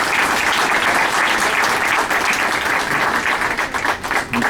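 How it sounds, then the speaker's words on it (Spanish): A lecture-hall audience at a conference on due process applauds steadily for an incoming speaker, a dense, sustained burst of clapping that thins slightly toward the end. "Pues vamos a recibir un fuerte aplauso al maestro Cuauhtémoc Manuel."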